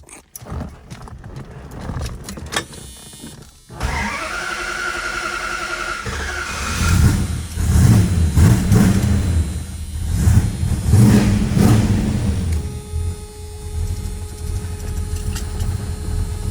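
A 1973 Dodge Charger SE with a 400 engine and 4-speed cranks and catches after a few seconds, then settles into a loud, rumbling idle with repeated throttle blips rising and falling, close by and without talk.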